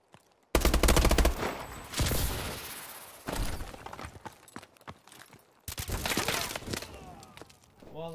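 Gunfire in Call of Duty: Advanced Warfare during a free-for-all match, several sharp, loud bursts of rapid shots separated by brief pauses, with no talking.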